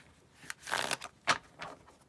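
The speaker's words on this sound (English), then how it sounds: "I'm gonna shuffle you guys cards." Tarot cards are shuffled in a few quick riffling bursts, close and fairly soft, separated by brief pauses with no speech.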